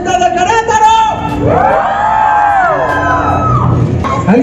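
A loud crowd at a convention concert in Querétaro cheers and whoops, voices rising together in a sustained roar of excitement.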